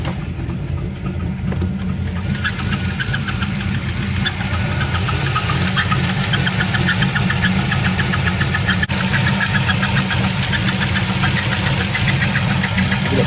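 A car engine idles with a steady, rapid knocking and a faint squeak that may come from a pulley, on an engine that may need a rebuild. The sound is continuous and fairly close, with no talk.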